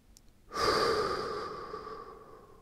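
A single long, slow inhale during a deep breathing exercise on hands and knees, starting abruptly and tapering off gradually, close and clear with no talking.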